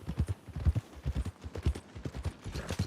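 Horse hooves clip-clop steadily in Red Dead Redemption 2 as a horse walks toward the stables, an even, close rhythm of soft thuds with no voices over it.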